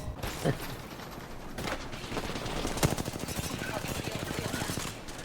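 Rapid bursts of automatic gunfire from a weapon in Apex Legends on the Olympus map ring out loud and close, with a few sharp single shots and a continuous rattling stream of rounds.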